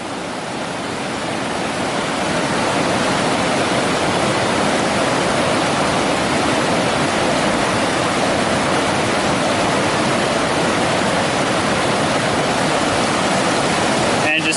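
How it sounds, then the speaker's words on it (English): Water running through a Grayl water filter bottle on a backpacking trip by the Cline River, a steady close hiss of flowing water that holds constant throughout. "this is Craig's Grail water filter"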